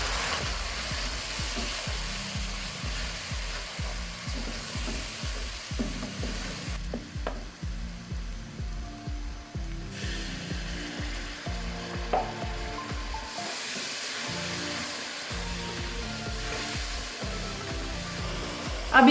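Tomatoes and spices simmer in a pot with a little water, giving a steady soft sizzle and bubbling with faint stirring knocks throughout, quiet and continuous with no talking.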